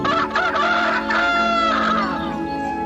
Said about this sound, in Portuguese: E imediatamente o galo cantou.